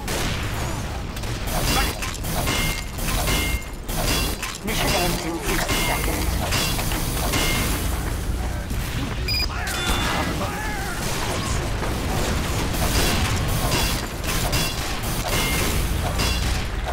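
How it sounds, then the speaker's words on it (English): Engineer's sentry gun being built in Team Fortress 2, dense mechanical clanking, ratcheting and metallic clatter that continues steadily amid loud game noise and occasional impacts. "Building the sentry."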